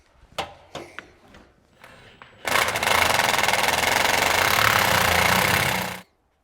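A few sharp clanks and taps come first. Then an impact wrench hammers loudly and steadily for about three and a half seconds as it tightens the top nut of a shock on an 80-series Land Cruiser, and it cuts off abruptly.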